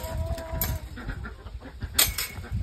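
Chickens cluck and squawk in short, scattered bursts close by as they are fed corn, with a few sharp louder calls among the general scuffling.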